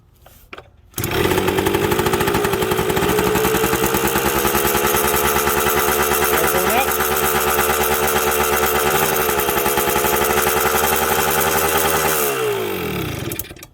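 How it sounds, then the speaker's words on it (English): A Kawasaki KE100 motorcycle's small engine, running on choke while the bike sits on its stand, starts abruptly and idles loudly and steadily with a rapid buzzing putter, then cuts off near the end. "the bike likes to run on choke"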